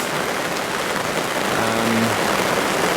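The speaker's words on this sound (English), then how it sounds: "it's just gone 11 AM and the rain has definitely arrived." Steady rain falls at a carp-fishing lake in France, a constant even hiss of downpour with a faint low hum briefly beneath it.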